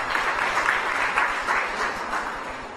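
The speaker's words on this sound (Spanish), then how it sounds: "Un fuerte aplauso de todos los presentes." Sustained applause from the audience at an awards ceremony for the 75th anniversary of the ballet's founding, a steady dense wash of many hands clapping, even and continuous throughout.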